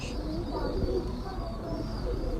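Pigeons cooing in a loft, soft low burbling calls over a steady background hum.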